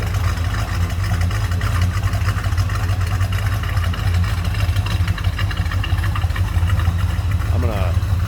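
A 1968 Oldsmobile 442 two-door hardtop idles nearby, its V8 giving a steady low rumble with a slightly uneven pulse, running alone at a constant level with no revving.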